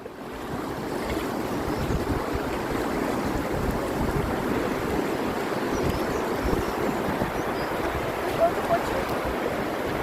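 River water rushes steadily along the Mo Chhu in Punakha, Bhutan, during whitewater rafting, a dense wash of flowing water with heavy wind buffeting the microphone throughout.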